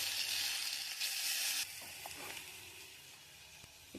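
Onion, green chili and black cumin fry in hot oil with a bright, close hiss that drops to a softer, steady sizzle, with a few faint stirring clinks and no talking.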